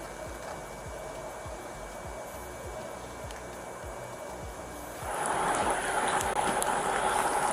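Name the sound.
rain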